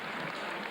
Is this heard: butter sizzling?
no